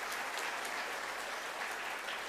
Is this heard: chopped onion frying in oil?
no